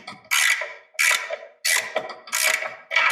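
A ratchet with an extension tightens bolts on a small-block Chevy engine block for a 1979 Camaro, producing five loud, close bursts of rapid clicking, each a short burst of spin followed by a brief pause.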